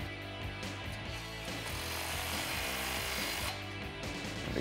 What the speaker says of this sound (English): Now we can tighten down this clamp.